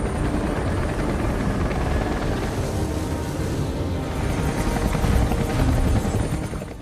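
A loud helicopter landing close by, its rotor thumping in a continuous chopping roar that builds slightly toward the end.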